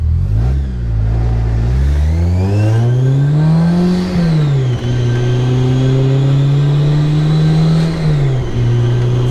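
A Kraftwerks-supercharged Honda S2000 CR engine pulls hard, its loud close drone climbing in pitch, dipping at a gear change, then rising again, with a supercharger whine riding over the exhaust note.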